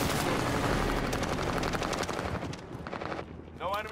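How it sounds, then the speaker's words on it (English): A precision airstrike in Call of Duty: Fortune's Keep hits with rolling explosions amid rapid machine-gun fire, loud and chaotic, then thins out as a helicopter-like drone lingers near the end. "Enemy precision airstrike."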